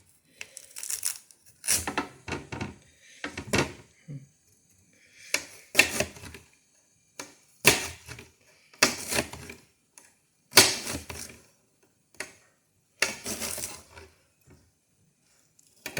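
A knife chopping through Japanese-style cod on a cutting board, a steady series of crisp, close knocks in short clusters separated by brief pauses, with no talking.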